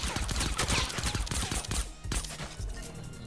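Suppressed gunfire in Fortnite, a rapid run of muffled shots in bursts over busy game noise, loud and close.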